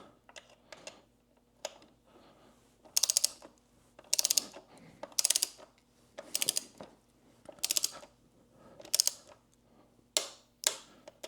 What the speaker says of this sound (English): now that we've got the handle bolts all torqued to 20 Newton meters